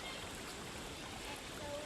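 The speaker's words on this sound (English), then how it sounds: "The current is strong, but it is just knee deep, like this." A clear river with a strong current, shallow enough to wade knee deep, rushes in a continuous, even wash of flowing water, soft and steady throughout.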